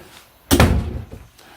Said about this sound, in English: Shut the door behind me.